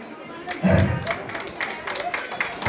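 Audience clapping at a farmers' association office-bearers' installation ceremony in Vijayapura, a short burst of moderate applause that swells briefly then continues unevenly, with a voice speaking over it.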